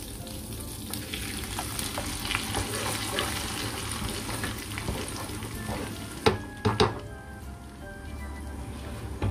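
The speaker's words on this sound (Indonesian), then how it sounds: "Oke, kemudian kita akan tumis bumbunya." Spice paste for Indonesian dendeng balado sizzles and fries in a little oil in a pan, a steady hiss with a few sharp clinks of a utensil stirring near the end.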